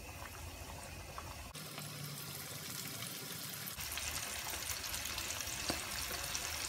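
Chicken wing pieces fry in hot oil, a steady broadband sizzle and bubbling that thickens partway through as more pieces go in, continuous and fairly close, with no talking.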